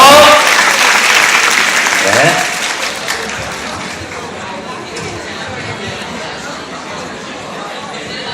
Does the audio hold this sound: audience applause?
yes